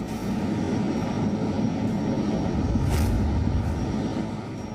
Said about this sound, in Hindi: भारत की थल सेना और वायु सेना इन हेलीकॉप्टरों का इस्तेमाल कर रही है